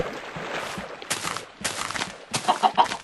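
Chickens clucking in the Minecraft video game, several short bursts of loud, close clucks in quick succession with brief gaps between them and no talking.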